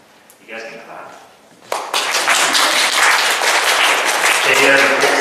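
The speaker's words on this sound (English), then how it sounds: "You guys can clap." Audience applause breaks out at an elementary school Grade 7 farewell, sudden and loud after a brief spoken introduction, then sustained dense clapping for several seconds.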